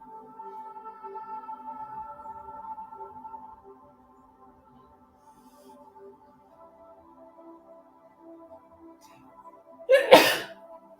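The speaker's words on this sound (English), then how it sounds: "I don't know what caused me a sneeze" A single sharp, loud sneeze bursts out near the end, following several seconds of quiet sustained tonal background.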